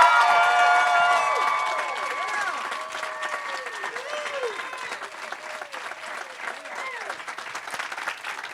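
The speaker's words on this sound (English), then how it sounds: "let's give them a huge, huge round of applause to our speakers" An event audience gives a loud, dense round of applause for speakers, mixed with whoops and cheers, tapering slightly but staying full throughout.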